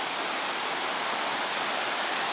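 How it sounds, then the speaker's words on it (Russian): Steady broadband rush of the Assa river flowing over rocks in Ingushetia, a continuous, loud, even roar with no pauses or voices. "это река Асса, которой я сейчас спущусь"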